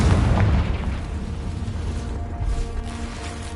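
The Confringo blasting spell in Hogwarts Legacy goes off as a loud, deep explosive boom that opens the moment and fades into a rumbling decay with a smaller pop partway through.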